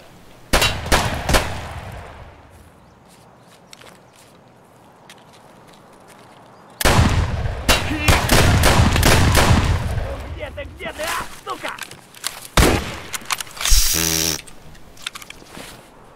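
Gunshots from the Escape from Tarkov shooter game crack in sharp bursts, several close single shots followed by a dense volley and more scattered loud reports, with a rattling, clanking tail near the end.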